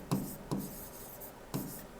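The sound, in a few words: teacher writing by hand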